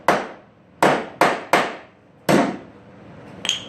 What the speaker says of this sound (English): Grab your old body hammer, move it back to where it wants to be.